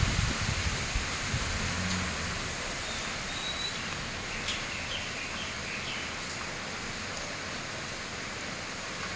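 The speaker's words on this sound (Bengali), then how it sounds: "পরিষ্কার বোঝাই যাচ্ছে যে এটা নিম্নচাপের বৃষ্টি থাকবে" Steady rain from a low-pressure system falls with gusty wind, a dense continuous wash of noise that holds level throughout, with no voices.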